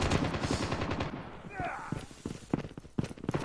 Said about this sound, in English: Don't pull out a machine gun on our side of the turf.